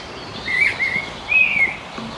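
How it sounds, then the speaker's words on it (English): A blackbird sings outdoors on an early spring nature walk in Lammassaari, Helsinki, giving two clear, fluting whistled phrases at moderate distance over quiet background ambience. "Blackbird."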